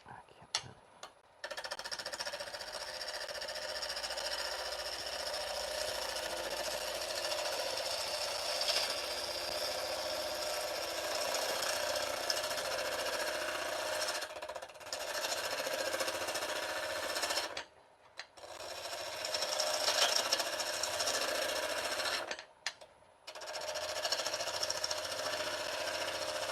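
A lathe turns a wooden bottle opener handle full of voids while a gouge cuts the spinning wood, giving a loud, steady, rough chatter. Short quiet gaps break the sound when the tool lifts off.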